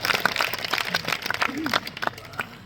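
An audience claps with both hands raised at an all-India poetry gathering at Tirthdham Chhinch, held for the RSS centenary year and Girl Child Day. Scattered, uneven claps carry on throughout, with crowd voices mixed in.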